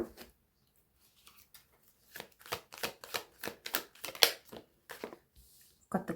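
Tarot cards are shuffled in soft, papery flutters and riffles, faint and close by, in quick clusters with short gaps between them and no talking.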